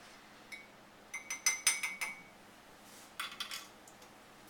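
Salt water stirred in a glass: a spoon clinks rapidly against the glass in two quick bursts of bright, delicate taps, close and fairly faint, with a quiet pause between.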